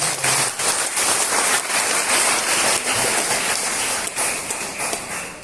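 Dense, steady applause from a church congregation fills the space at an anniversary service in Sungai Betung. The clapping runs as an even, rain-like wash with no break.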